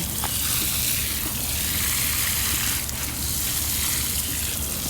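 A garden hose sprays water onto backyard plants, including okra, with a continuous close hiss and splash that stays loud and steady throughout.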